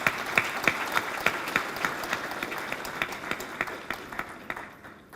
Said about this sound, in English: Let's once again give a round of applause for the doyen.